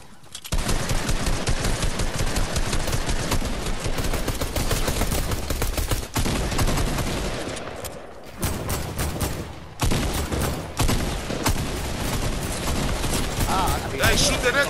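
Video game gunfire in a shooting match, heard as dense, loud, continuous bursts of rapid shots with brief pauses, mixed with game sound and excited voices.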